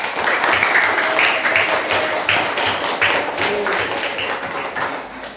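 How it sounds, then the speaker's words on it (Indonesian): A classroom audience applauds a student presenter after her talk on the water cycle, steady clapping from many hands lasting throughout with a faint voice underneath. "kita beri aplaus dulu untuk Mbak Giran"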